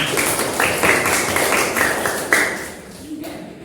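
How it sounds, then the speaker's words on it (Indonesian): A primary school class claps hands in applause, a dense patter of many small hands carrying through the room for a few seconds before fading, with a teacher's voice over it. "tepuk tangan buat kita"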